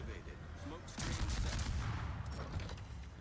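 Naval video game gunfire from the Johnston destroyer's ship guns, a dense rumbling barrage that swells into a louder burst after the first second and rolls on continuously with crackling impacts.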